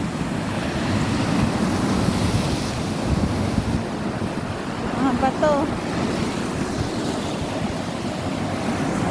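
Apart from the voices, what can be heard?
strong ocean waves at a Croatian beach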